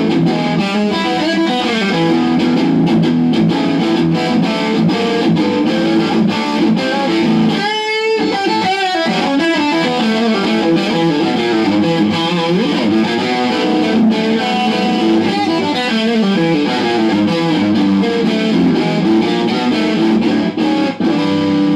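Heavily distorted electric guitar through a JH-3 overdrive distortion pedal plays chords and riffs, with a thick overdriven tone and a brief pause near the middle, continuing loudly throughout.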